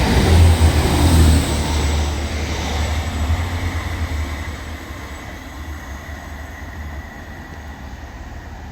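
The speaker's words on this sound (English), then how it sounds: "Forming a heavily delayed 1143 Transpennine Express service to Liverpool Lime Street from Cleethorpes with a singular Class 185." Class 185 Transpennine Express diesel train passing through a station, a loud close rumble and roar at first that gradually fades as it draws away, with no voices.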